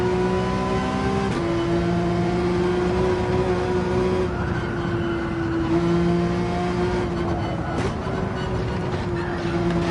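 Toyota Supra race car in the Gran Turismo 7 racing game, its engine a loud steady drone that rises and dips through gear changes and braking, holding close and continuous throughout.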